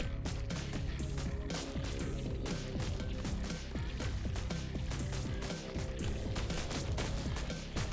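Turrets firing in a video game about fighting insect swarms: dense, continuous bursts of gunfire with sharp cracks and impacts, loud and steady throughout, no voices.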